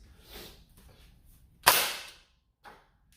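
A spring-powered Gecko clone pistol fires once with a sharp, dull crack and thud, preceded by faint handling noises and followed by a small click; quiet room, no talking.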